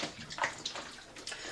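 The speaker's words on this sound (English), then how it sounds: "water running." Tap water runs steadily while developed film is rinsed, a soft continuous splashing hiss with small irregular spatters, fairly quiet and with no speech.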